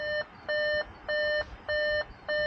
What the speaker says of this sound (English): So sorry for the beeping,